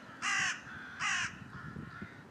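Crows caw in a winter field, two loud harsh calls close by, then fainter rustling and distant background sounds.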